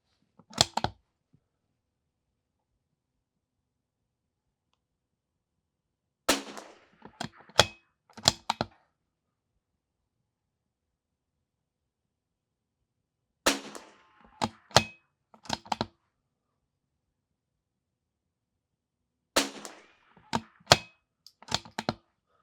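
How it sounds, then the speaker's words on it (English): A rifle fires a 10-round group with Eley Ultra ammunition at a long-range test, sharp cracks arriving in spaced clusters of two to four shots separated by long silences, close and crisp. "Let's go ahead and shoot a 10-round group."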